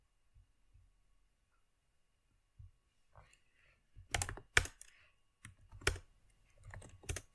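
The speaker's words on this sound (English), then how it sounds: "I'm typing the command to build and initialize our cross-platform app." A computer keyboard being typed on, with quiet scattered keystrokes at first, then a denser burst of sharp, close clicks in the second half over a faint low hum.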